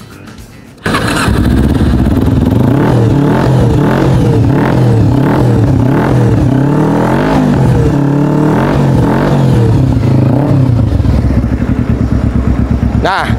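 A Kawasaki Ninja 250 two-cylinder bobber motorcycle starts up close by, then settles into a loud, throbbing idle broken by several quick throttle blips.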